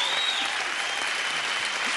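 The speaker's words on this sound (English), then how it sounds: "round of applause" A studio audience on a TV game show applauds, a dense, even burst of clapping that stays steady and fairly loud throughout.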